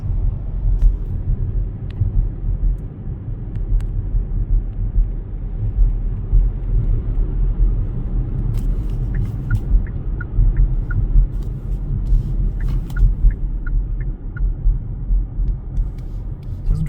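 Steady low road rumble from inside a car cruising through the Twin Cities near sunset, with a few faint high chirps and ticks scattered over the drone.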